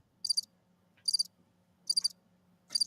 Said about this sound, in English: Oh man, I hate crickets, man.